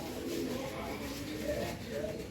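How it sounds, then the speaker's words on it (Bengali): Pigeons perched in a tree give soft, low, rolling coos that repeat in a steady, unhurried rhythm, heard at moderate distance over a faint outdoor background. "কবুতর তো ওরা সবসময় এই গাছটা জুড়ে বসে থাকে এটা হচ্ছে ওদের রাজ্য"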